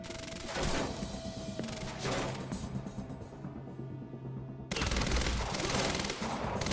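Sniper fire and other gunshots in the shooter game Quantum Break, heard as loud, dense bursts of gunfire that cut out briefly and then resume, with no talking.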